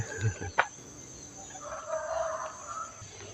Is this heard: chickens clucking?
yes